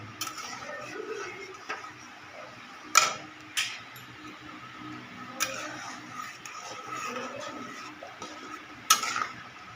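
A spoon stirs a thickening mixture in a pan, a soft continuous scraping with a few sharper knocks against the pan, heard over a low background hiss.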